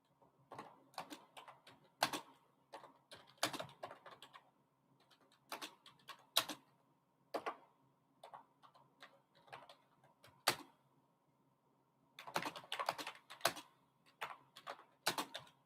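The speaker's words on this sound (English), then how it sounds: "let me type an answer here" Computer keyboard typing in scattered bursts of quick keystrokes with short pauses, close and fairly quiet, with no one speaking.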